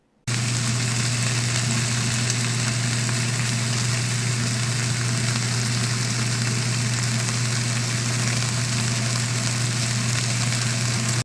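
Slices of store-bought smoked pork belly crackle and sizzle in a frying pan at home, a steady, loud hiss with a low underlying hum that holds evenly throughout.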